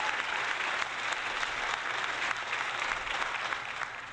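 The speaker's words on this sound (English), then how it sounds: "I'm spamming the fucking applause" A canned applause sound effect played repeatedly on a livestream, a continuous even wash of crowd clapping at moderate level with little talk over it.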